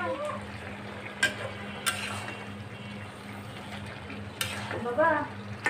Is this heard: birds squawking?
no